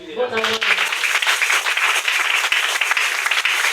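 A church congregation breaks into loud, sustained applause to acclaim Jesus, dense clapping that fills the room right after a voice cuts off at the start.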